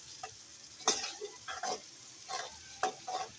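Onions fry in a pan for restaurant-style chana dal, soft crackling sizzle with a handful of brief stirring scrapes, fairly quiet and close.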